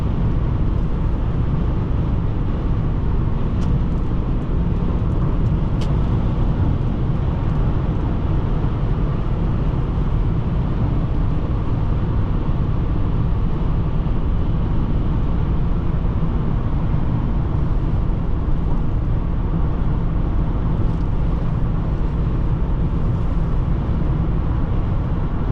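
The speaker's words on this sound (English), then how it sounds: "let's take an exit, do a 0 to 60 test" A 1995 Lexus LS400 pulls through a 0 to 60 run, its engine and road noise forming a loud, steady rumbling roar from inside the cabin, unchanging throughout, with no voices.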